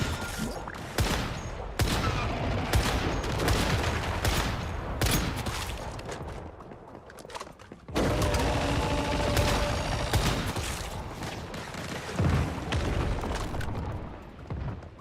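Rapid pistol gunfire in the survival shooter Once Human: dense, loud bursts of shots in quick succession with a short pause around the middle, then more shooting that tails off near the end.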